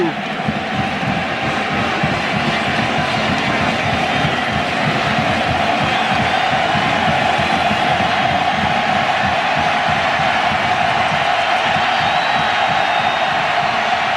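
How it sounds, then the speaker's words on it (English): Loud, dense roar of a college football stadium crowd at Oregon during a 2006 game against OU, cheering continuously without letup as a last-second field goal attempt is set up. "This crowd is deafening."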